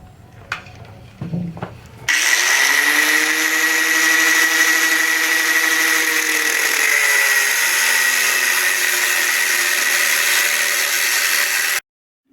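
A power tool cuts the seat stay of a Yamaha XS650 chopper. A few faint knocks come first, then a loud, sustained whine starts suddenly, holds with slight pitch drifts for about ten seconds and cuts off at the end.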